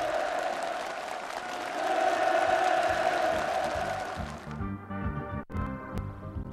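Sustained applause from a crowd at an on-site North Korean ceremony handing over new-home occupancy permits, swelling and then tapering off into scattered claps and quieter murmurs.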